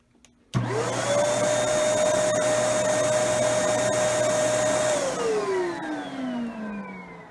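Kenmore Elite upright vacuum cleaner switched on with a sudden start, then a steady whining motor hum held for several seconds before it winds down in a falling pitch, close and alone.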